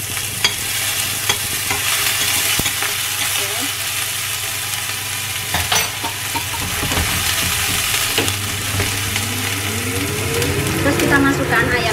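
Shallots and a little garlic fry and get stirred in a pan, with a loud, busy sizzle broken by scraping strokes and knocks against the pan, while a voice talks intermittently over it.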